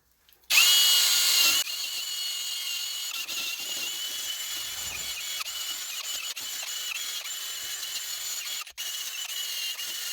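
A power tool cleans corrosion off the face of the spindle mount on a full-size Jeep Quadra-Trac front axle. It gives a loud, close, continuous whine that is harsher for the first second, then runs steadily with one brief break near the end.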